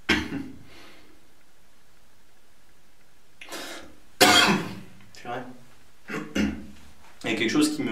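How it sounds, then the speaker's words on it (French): A person coughs and clears their throat in several sharp, close bursts separated by quiet gaps, during a nighttime Halloween ghost hunt. "Il y a quelque chose qui me fait tousser"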